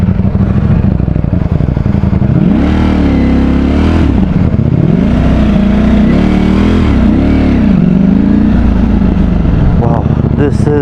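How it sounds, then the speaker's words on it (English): Stock Ducati Streetfighter V4 motorcycle engine revved repeatedly at close range, loud and raw, rising and falling in a series of throttle blips over idle. "It is louder than the newer generation motorcycles like the new Panigale V4."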